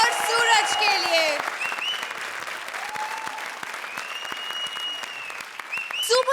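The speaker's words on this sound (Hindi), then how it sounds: "जोरदार तालियां" Studio audience applause on a Hindi television comedy show, an even wash of clapping with voices and bright musical stings layered over it.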